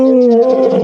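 A big cat, a tiger or lion, gives a single deep, loud roar close up, a rumbling tone that holds strong and then slowly sinks.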